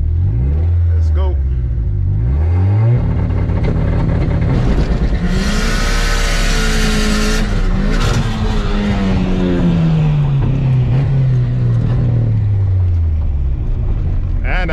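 A BMW race car engine revs hard on a hot lap, loud and close, with rising and falling pitch sweeps through the gears, a sudden roaring surge midway, and a voice talking over the din.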